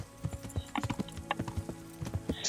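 A mare's hooves clip-clop at an irregular walking pace in the video game Kingdom Come: Deliverance, close and distinct over a soft background hum.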